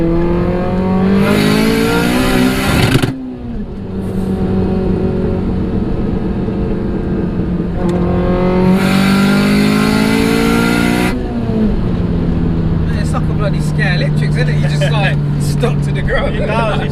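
A modified 544bhp Audi S3 engine revving hard and accelerating through gears, loud rising drones broken by sharp gearshift pops and crackles, heard from inside the car with voices talking over it.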